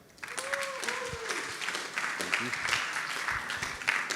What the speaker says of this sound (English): So please, with the warm applause, welcome